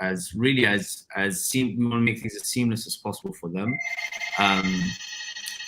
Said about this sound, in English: Apologies, that's the phone.